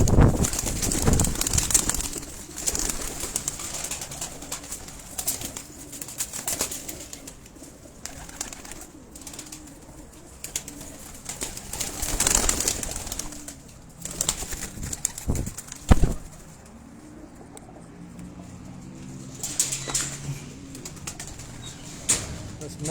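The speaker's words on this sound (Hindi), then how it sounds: "टोटल उड़ने वाले ये नर हैं और मादियाँ आज बाहर निकाली हुई हैं, तो यही कबूतर हैं" Flying pigeons, mostly males, coo and flap their wings at a breeder's loft in Dhok Kala Khan, Rawalpindi. Low cooing runs steadily throughout, broken by several loud, close bursts of wing flapping.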